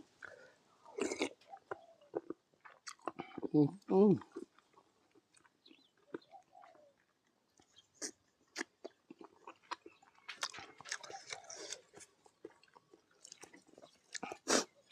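Close, wet chewing and crunching while eating spicy Thai-Lao papaya salad and a curry of cassia leaves with oxtail, with scattered bites, slurps and mouth noises, including a louder burst early on, and no talking.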